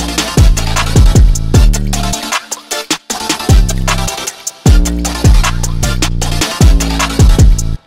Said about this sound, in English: This part, it's an 808. It's a Pluto 808. It's from Carl Beats drum kit.